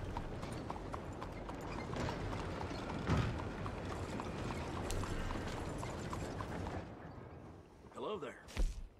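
Steady clip-clop of horse hooves plodding along in the video game Red Dead Redemption 2, fairly loud and continuous, with a few mechanical clanks and a burst of noise near the end.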